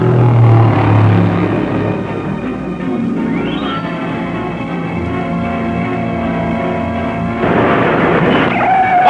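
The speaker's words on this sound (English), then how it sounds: "Dick Blackwell over on the second turn, skids out of control" A 1950s NASCAR Grand National stock car skids out of control at the Daytona race, its engine roaring steadily with a rising, swerving tone and a harsh screech near the end, loud and close.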